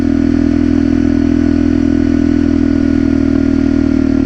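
A motorcycle engine running at a steady idle, with a loud, even thrumming drone close by that continues without a break.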